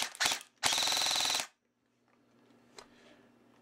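An upgraded Valken airsoft battle rifle with a high-torque motor and an 11.1-volt battery fires a brief burst, then a rapid full-auto string of evenly spaced buzzing shots, close and loud, before going quiet.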